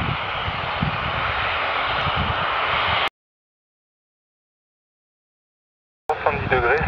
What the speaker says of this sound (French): le Boeing 737 s'aligne en piste 26 à temps.